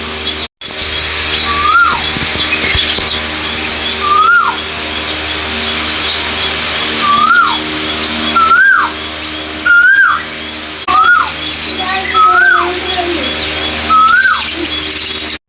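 Outdoors near a garden plot, a koel repeats its rising whistled call about eight times at a steady pace of one every second or two, clear and fairly close over a constant background hum.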